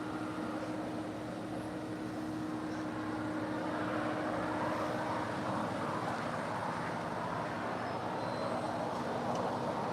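An American Airlines plane lands on runway 25 left at LAX, heard as a continuous distant jet roar with a low steady hum, unbroken for the whole stretch.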